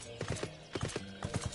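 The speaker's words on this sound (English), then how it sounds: "Ooh, look at that horse." Horse hooves clip-clopping in the video game Final Fantasy XIV, three quick groups of hoof strikes in a brisk walking rhythm, fairly quiet and without talk.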